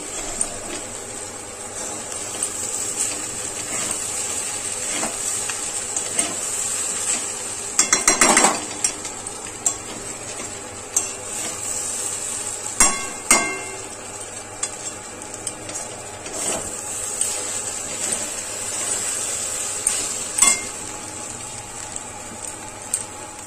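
Chow mein being stir-fried in a pan, with a metal utensil scraping and clattering against it over a steady sizzle and several louder knocks; no one speaks.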